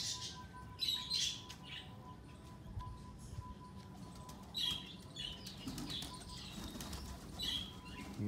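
Pigeons released from their coop flap their wings in several quick bursts, with soft squawks and cooing among them over a low background hum.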